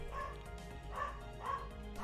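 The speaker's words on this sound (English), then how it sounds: "Oh, my dog is going so crazy." A dog barks and yips excitedly indoors, three sharp whining barks spaced about half a second apart, fairly close over a low background hum.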